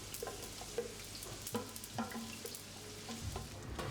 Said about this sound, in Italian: Poi aggiungiamo le cipolle tritate,